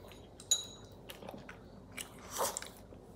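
A cat eats a Churu treat up close, with a few quiet, irregular licking and chewing clicks and smacks over a soft, near-silent background.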